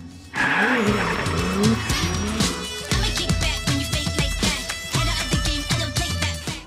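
Drift cars skidding at a drift event, a Pro 2 Camaro against a street car, with screeching tires and revving engines bursting in a rapid pulsing rhythm, loud and close throughout.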